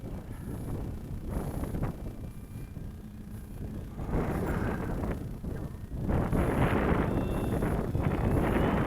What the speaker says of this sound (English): Of course, the wind picks up when you want to land.